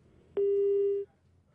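A telephone busy tone sounds after a phone line to a television news interview drops: one loud, steady electronic beep lasting under a second, then near silence.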